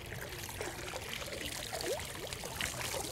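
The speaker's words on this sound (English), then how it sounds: "You can see all the water squirting." Seawater drips and trickles off an old crab trap rope hauled up from a salt marsh, a steady wet patter of small drops and thin streams, close and fairly quiet over a low background rumble.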